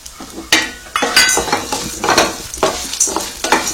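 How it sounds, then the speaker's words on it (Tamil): Chana dal, coriander seeds, black pepper and dried red chilies dry-roasting in a pan, stirred with repeated scraping strokes and light rattling clinks over a soft crackle, close and fairly loud, with no talk. "நல்லா வறுபடட்டும்."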